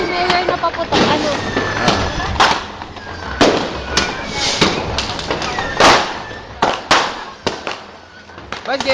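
Firecrackers and fireworks going off outdoors in a rapid, irregular series of loud cracks and bangs, near and booming, with people talking in between.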